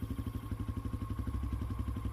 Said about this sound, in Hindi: राघव ने बाइक की स्पीड और बढ़ा दी।